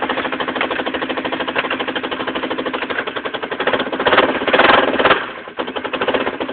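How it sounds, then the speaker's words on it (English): A Honda Fourtrax ATV engine with a hole in the bottom of its muffler runs close by, a rapid, loud, raspy putter that rises briefly in a rev before settling back. "Drake, There's a hole at the bottom of the muffler"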